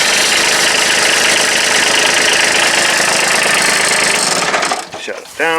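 A Kubota B2601 compact tractor fitted with an RCK60-32 mower deck runs at a loud, steady idle, then is shut down and its rumble stops near the end.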